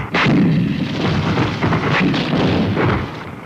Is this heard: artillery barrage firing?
yes